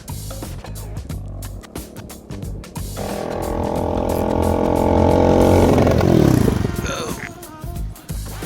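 A Lifan KP Mini motorcycle engine, ridden in the wrong gear, revs under uneven throttle. It climbs into a loud, steady drone for a few seconds, then drops away amid nearby clatter and background noise.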